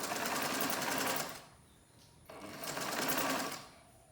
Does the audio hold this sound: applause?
no